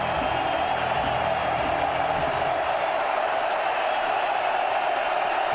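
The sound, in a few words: football stadium crowd noise rising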